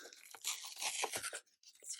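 Packaging on a summer-themed sticker mystery kit being torn open by hand, a close, crinkly ripping with several bursts and a short pause before a final tear, no talking.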